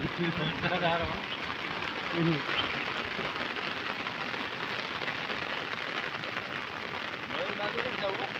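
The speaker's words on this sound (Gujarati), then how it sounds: "વરસાદ હવે પાછો જોરદાર ચાલુ થયો છે" Steady heavy rain pours down in a dense, continuous hiss, with brief bits of voices heard faintly near the start and end.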